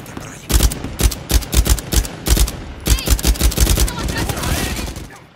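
Rapid bursts of gunfire from the Uncharted 4 video game, loud clustered volleys and machine-gun rattles separated by short gaps, with a voice speaking briefly underneath.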